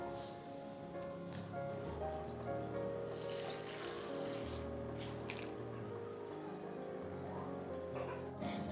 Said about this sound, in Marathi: आता या कढईवर आपण चाळणी ठेवून देऊ आणि मटकीचं पाणी गाळून घेऊ